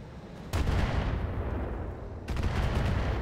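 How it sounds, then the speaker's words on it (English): Artillery shells from a Hoplite mech hitting the battlefield in the BattleTech mod RogueTech, two heavy impact blasts over a dense rumbling barrage, loud and sustained without talk. "Our Hoplite is going to drop artillery probably on this Maelstrom"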